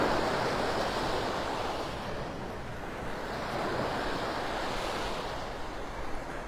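Ocean waves wash steadily onto the beach at Delnor-Wiggins in North Naples, Florida, a continuous broad surf roar with gentle swells and some wind, no voices.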